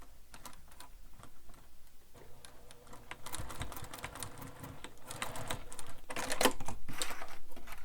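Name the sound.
sewing machine hand cranked while top stitching a bag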